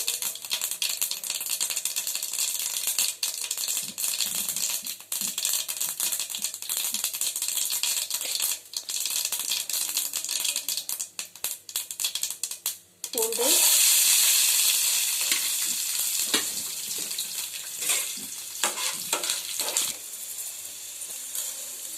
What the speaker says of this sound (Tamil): கடுகு ஒரு ஸ்பூன் விட்டுங்க கடுகு பொரிஞ்ச உடனே